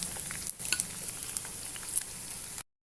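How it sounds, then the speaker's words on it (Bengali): Thinly sliced onions, about 250 grams, fry steadily in hot oil for birista, giving a dense, even sizzle with small crackling pops throughout before cutting off abruptly. "এবার এটা আমি তেলে দিয়ে দিচ্ছি বেরেস্তা করার জন্য।"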